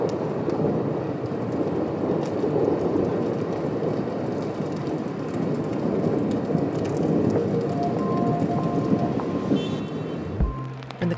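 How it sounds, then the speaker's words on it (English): Steady heavy rain pours in a late-afternoon thunderstorm in Japan, a dense loud wash with a low rumble of thunder underneath and a few thuds and clatters near the end. "In the late afternoon, there was a thunderstorm,"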